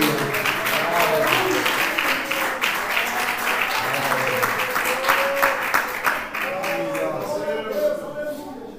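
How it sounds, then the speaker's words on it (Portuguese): A church congregation claps their hands together in worship during a Portuguese-language service, a dense, steady wash of clapping that carries on throughout, with voices and a musical tone mixed in beneath. "Pode bater as palmas para Jesus."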